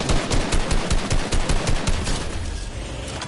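Rapid automatic gunfire rattles loud and close in a Fortnite match, a dense continuous burst of shots that barely eases over a few seconds with no voices.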